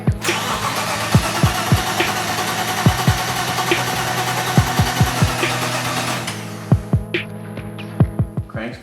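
A BMW E30 engine cranks repeatedly without catching, a steady starter-motor whir punctuated by rhythmic compression thumps, loud and close; the cranking cuts off near the end and a few slower turns follow.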